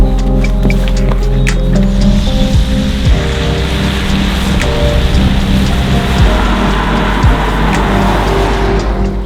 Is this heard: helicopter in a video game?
no